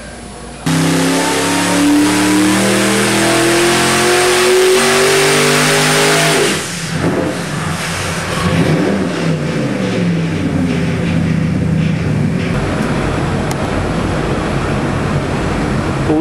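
A twin-turbo NRE 509 big-block engine on a dyno revs hard under boost, a loud sustained roar climbing steadily in pitch before dropping off and settling into a rumbling, rising pull, with no talking.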